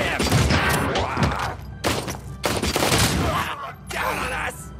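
Gunfire in the Robocop: Rogue City video game, with repeated loud bursts of shots and heavy thuds over several seconds while voices shout commands amid the firing.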